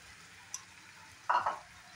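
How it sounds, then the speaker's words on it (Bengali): Cut paneer tumbles into a pan for a paneer and kabuli chana dish, giving a faint tick, then a short burst of sizzling frying and stirring around the middle before settling into quiet kitchen hiss. "এখন এখানে দিয়ে দিব কেটে রাখা পনিরটা"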